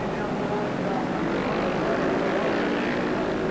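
Production superbikes racing in the 1978 Castrol Six Hour at Amaroo Park, braking hard into a corner and accelerating out, a dense continuous engine roar that stays loud throughout.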